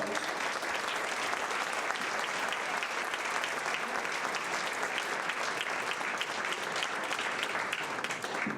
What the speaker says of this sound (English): I would like a round of applause for Patty.